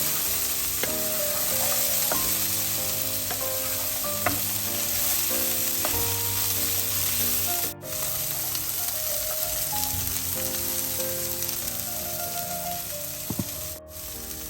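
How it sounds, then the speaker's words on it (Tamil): Onions, chillies and cowpeas fry and get stirred together in a pan, a dense steady sizzle with frequent spoon scrapes and clinks throughout, fairly loud and close. "நான் இனிமேல் இந்த கௌபியை இதோடு சேர்க்க போகிறேன். எல்லாத்தையும் நல்லா கலந்து விடுவோம்."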